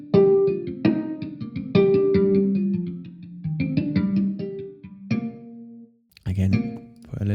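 Bright, bell-like guitar harmonics ring out in a steady picked pattern, each chime sustaining briefly before the next, with a short pause near the end.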